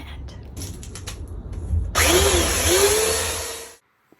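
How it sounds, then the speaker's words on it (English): Some faint clattering gives way to an electric sander on a wooden cupboard starting up with a loud, rising whine, running for a couple of seconds before abruptly stopping. "I started sanding down the cupboard using an electric sander"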